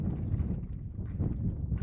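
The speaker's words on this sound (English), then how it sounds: "As you can hear the wind whipping on the microphone and the papers around us." Strong wind buffets a microphone outdoors at a softball game, a continuous low rumbling roar with gusty swells and faint flapping of papers.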